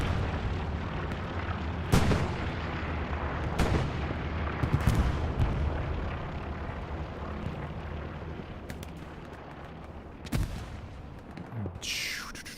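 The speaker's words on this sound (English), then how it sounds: "Medium 75 gets destroyed." Battle sounds from the World War II shooter Hell Let Loose as a medium tank is destroyed: repeated heavy booms and artillery-like blasts over continuous rumbling gunfire, one loud explosion standing out near the end.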